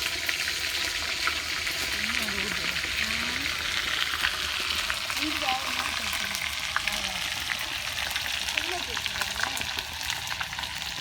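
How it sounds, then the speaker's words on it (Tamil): Quail frying in hot oil at an outdoor village cooking spot, a steady dense sizzle and crackle with occasional stirring sounds throughout, with no voices. "இப்போ காடையெல்லாம் நல்லா பொரிச்சு எல்லா காடையும் சேர்த்து எண்ணெயில பொரிச்சு எடுத்தாச்சு."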